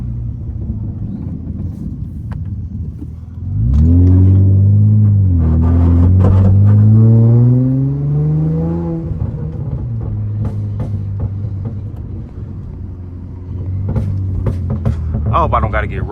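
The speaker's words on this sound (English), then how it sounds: "That was a strong downshift." Honda Accord V6 on a rainy day gives a loud engine rumble that rises and sweeps upward as it downshifts and accelerates, then drops back to a steady cruising drone under road noise.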